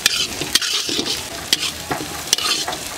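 Black pepper, dried red chilli, cumin and onion frying in a pan with cardamom and cinnamon, a loud close sizzle broken by repeated sharp scraping stirs of a utensil.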